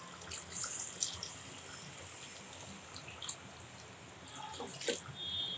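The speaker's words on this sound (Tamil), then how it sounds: "அந்த 3 கப்புக்கு 1/4 கப் தண்ணி சேர்க்குறேன்" Water trickles and splashes in short bursts into a pressure cooker of chicken biryani over a steady low background, with faint clinks near the end.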